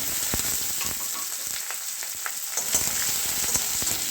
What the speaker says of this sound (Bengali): শুকনো লঙ্কা আর তেজপাতা আমি ফোড়ন দিয়ে দিলাম